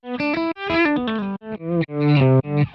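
Guitar notes run through a BOSS ME-90 compression block swell in with soft attacks like backwards playing, each note rising to a sustained, slightly distorted tone before cutting off in a short melodic phrase.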